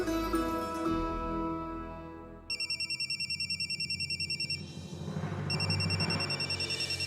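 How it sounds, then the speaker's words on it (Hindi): A telephone rings loudly and close by, its electronic trill repeating in quick pulsing bursts after a short stretch of other sound. "अरे तो सिंहासन सिंह का फोन है। उठाइए उठाइए"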